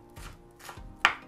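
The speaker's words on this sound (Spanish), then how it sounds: "Y vamos a cortarlo también en trocitos chicos." A knife chops an onion into small pieces on a board, two soft dull cuts followed by a sharper, louder knock, close and alone.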